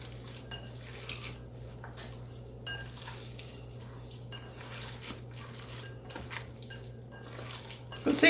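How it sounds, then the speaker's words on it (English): Hands mixing ground beef and seasonings for hamburger steak in a bowl, giving soft, wet squishing and occasional light knocks against the bowl, faint against a steady kitchen hum. "So now I'm going to go ahead and get in here and mix all this up."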